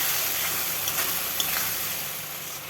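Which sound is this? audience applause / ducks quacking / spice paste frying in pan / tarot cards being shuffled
spice paste frying in pan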